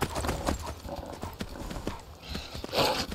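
Horse hooves clip-clopping at a gallop in the video game The Elder Scrolls V: Skyrim, quick close thuds with a brief whinny, mixed with other game noise.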